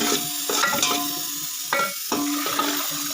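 Gravy sizzles and fries in a pan, with bursts of stirring and scraping recurring every second or so, close and fairly loud.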